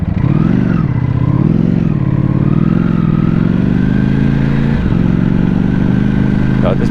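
A Ducati Panigale V4S motorcycle engine runs loud and close for the whole stretch, its pitch rising and falling with revs while a voice talks over it.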